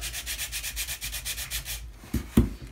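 Sanding block rubbed back and forth on the corner of a wooden fore topsail yard for a 1/84 HMS Victory model ship, a steady run of close, rhythmic scraping strokes, then a couple of knocks on the bench.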